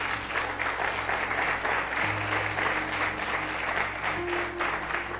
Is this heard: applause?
yes